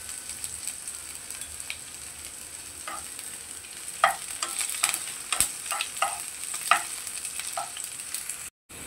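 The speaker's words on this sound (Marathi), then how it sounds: "तेलामध्ये व्यवस्थित कांदा आणि लसूण भाजून घ्यायचे आहे" Chopped onion and garlic fry in oil in a pan for a potato masala, with a soft steady sizzle under a run of sharp spoon scrapes and taps that cluster in the second half; no one speaks.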